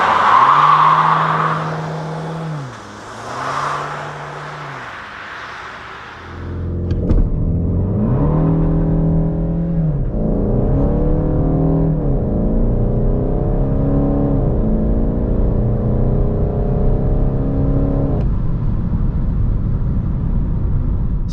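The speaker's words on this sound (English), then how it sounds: "let's now first see how fast the car goes on the country road to 100 using the launch" A 200 hp VW Golf 8 GTD diesel launches hard on a country road under launch control, its engine revving loudly and climbing through several gear shifts, close and continuous for about twenty seconds.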